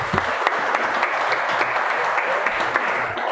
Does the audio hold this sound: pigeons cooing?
no